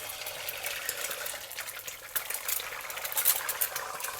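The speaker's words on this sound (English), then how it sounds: "Add in your eggs. I'm using 2 eggs." Two eggs frying in hot oil in a pan, a steady bright sizzle and crackle with small pops, close and moderately loud, alone without talking.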